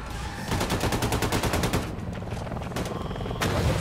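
Fast automatic gunfire from the video game Wolfenstein 2: The New Colossus, a steady rattling stream of loud shots followed by a few scattered single bursts, with no talk.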